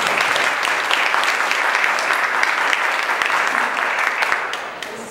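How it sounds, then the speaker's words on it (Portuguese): Steady applause from a church congregation welcoming a speaker to the pulpit, dense and continuous for several seconds before tapering off at the end. "As palmas para receber a nossa palestrante."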